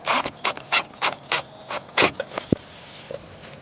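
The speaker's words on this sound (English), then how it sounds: "you can gently turn your screw in" A screwdriver drives a screw into a Vamoose awning rail on a VW Transporter van, giving a series of short, close rasping and ratcheting turns in an uneven rhythm, about eight bursts with brief pauses between them.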